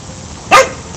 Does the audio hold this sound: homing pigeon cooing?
no